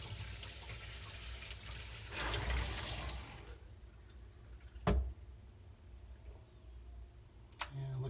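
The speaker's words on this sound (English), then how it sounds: "let the water out." Water rushes out through a sink drain in a short, hissing burst, followed by a sharp knock and quiet room noise.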